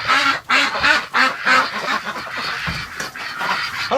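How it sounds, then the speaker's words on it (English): Ducks quack loudly and close by inside a barn, a steady run of repeated calls overlapping each other for the whole stretch. "Hello, duckies!"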